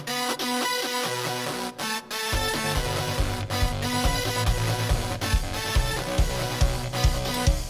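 Keyboard chords played through a Steinberg Flex Phraser modulation effect, dense and continuous with a driving pulsing low end and bright layered tones, brief dropouts near the start before settling into a steady rhythmic groove.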